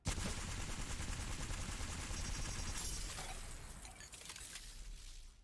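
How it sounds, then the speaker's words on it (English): Sustained rapid automatic fire from the L-Star energy gun in Apex Legends, a loud continuous stream of shots that thins and tails off near the end as the weapon overheats. "Let's see how long it takes for the L-Star to overheat."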